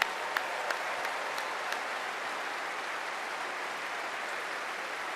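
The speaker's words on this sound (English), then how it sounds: "So a big round of applause for all of you," Sustained audience applause fills a large arena at the Invictus Games 2022 closing ceremony, a dense steady wash of clapping with a few sharper individual claps near the start, moderately distant.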